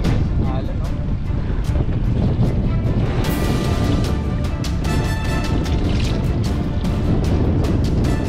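Strong wind buffets the microphone over choppy waves on Laguna de Bay, a lake in the Philippines, during kayak fishing, a constant loud roar with splashing, and people talk through it.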